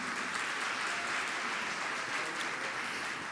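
Audience applause welcoming a speaker to a round-table panel on patient safety, a steady dense wash of clapping that holds evenly throughout with no voices over it.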